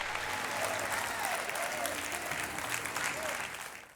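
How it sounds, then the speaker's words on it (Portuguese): A church congregation gives a sustained round of applause in praise, a dense, even wash of many hands clapping at moderate distance that holds steady and then begins to fade toward the end. "Vamos lá, uma salva de palmas ao Senhor."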